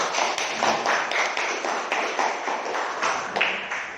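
Students in a classroom applaud a presenting group, giving a burst of quick, overlapping hand claps that stays close and steady for several seconds.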